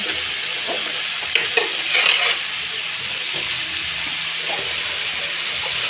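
Tomatoes sautéing in a frying pan for a ladies-finger tamarind curry, a steady close sizzle broken by a few scraping stirs and light clinks of the spoon against the pan, with no talking.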